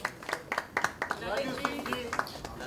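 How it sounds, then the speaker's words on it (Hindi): Scattered rhythmic clapping from an audience at a poetry album launch event, a few claps at a time rather than a full ovation, with a voice talking over the claps. "रमेश तलवार साहब के लिए जोरदार तालियां हो जाए"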